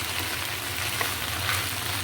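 Pasta frying in a pan makes a steady close sizzle, an even hissing crackle that continues without pause for the whole two seconds.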